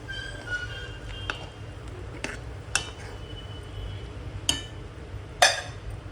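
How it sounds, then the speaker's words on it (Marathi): A spoon stirs drumstick curry with crushed peanuts in a pot, giving a few sharp metallic clinks over a steady low background hum, fairly quiet and close. "परत आपण हलवून घेऊया एकत्र."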